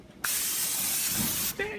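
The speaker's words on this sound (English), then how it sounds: "Now preheat your grill and spray it with some Pam" Pam cooking spray is sprayed onto a preheated grill in one loud, close, steady hiss lasting just over a second, ending abruptly.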